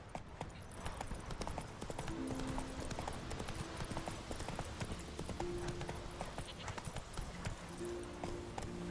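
Hooves of the horse Roach in The Witcher 3 beat in a fast, even clip-clop gallop, loud and continuous, with faint game music tones in the background.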